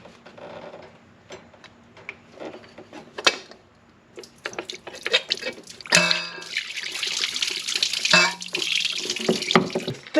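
Water spills and splashes from behind a water pump being removed from a Volkswagen MK4 Golf during a timing belt job, preceded by scattered clicks and taps of tools, then a louder sustained splashing rush near the end.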